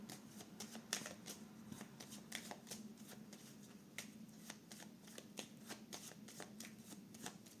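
Tarot cards being shuffled by hand in a steady run of soft riffling flicks and slaps, close and quiet, with no talking over it.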